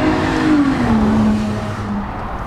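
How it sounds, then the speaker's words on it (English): A car racing on a street nearby, loud engine with a gliding whine that drops in pitch as it passes, then fades slightly. "Someone was racing on the street."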